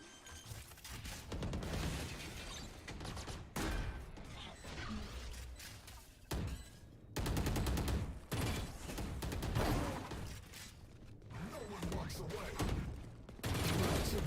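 Valorant tournament match gunfire, with bursts of shots and a wallbang hit through cover, crackling in repeated clusters across the clip under busy game noise and background voices.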